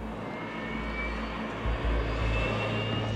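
Steady engine drone from an MQ-9 unmanned aircraft, a broad continuous roar with a low rumble that swells slightly partway through, heard alone without voices.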